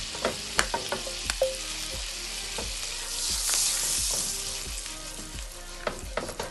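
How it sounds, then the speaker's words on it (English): Fried pork bits being scraped from the bottom of a hot skillet while making honey garlic pork chops: repeated sharp scraping strokes at close range over a steady background sizzle, with no talking. "see how all those wonderful pork bits are coming up from the bottom of the skillet"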